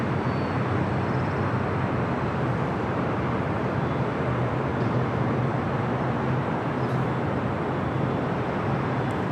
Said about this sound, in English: That Delta A350 on the taxiway